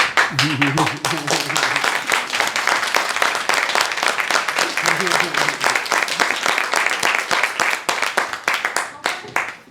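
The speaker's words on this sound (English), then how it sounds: "Clap if you believe." A theatre audience at a performance of Peter and the Starcatcher claps in a steady, sustained round of applause, with sharp individual claps near the microphone and voices speaking over it at times.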